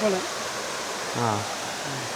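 A small waterfall in an old mountain village deep in the hills of Liuyang, Hunan, makes a steady, even rush of water under brief snatches of people talking.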